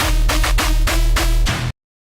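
A voice-made bass line without growl processing thumps out in short, heavy, repeated low pulses, loud and close, then cuts off abruptly into silence.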